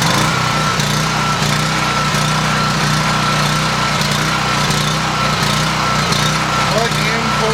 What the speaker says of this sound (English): So let me start the generator first.